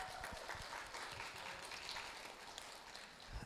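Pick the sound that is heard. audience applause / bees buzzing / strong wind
audience applause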